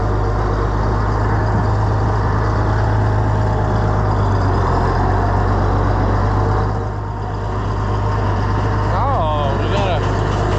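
A tractor pulls hay equipment through mud with a loud, continuous, low engine rumble that stays steady throughout, and a voice briefly speaks near the end.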